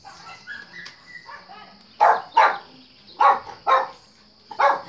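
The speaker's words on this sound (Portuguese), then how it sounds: "Agora começou o cachorro a brigar." Dogs barking and fighting nearby: a few lighter yips first, then five loud, sharp barks in close pairs, with short pauses between them.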